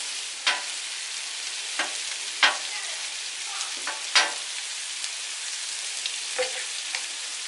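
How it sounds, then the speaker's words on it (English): Steak searing on a Blackstone 22-inch griddle, a steady close hiss of frying broken by several sharp crackling pops and scrapes spaced a second or two apart, with no voices over it. "That steak is searing down there."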